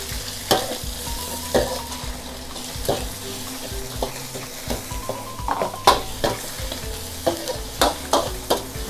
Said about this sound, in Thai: บวกพิเศษอีกกุ้งกับเนื้อนะคะเพื่อนๆแล้วก็เอาไปผัดเลยนะ